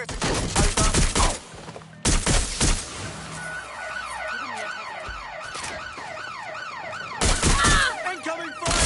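Rapid bursts of gunfire in the game Watch Dogs Legion, loud close volleys at the start and end, with a wailing police-style siren sweeping up and down through the middle.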